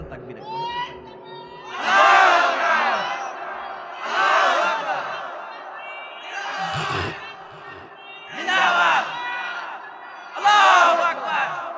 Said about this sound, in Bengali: তাকবীর একবার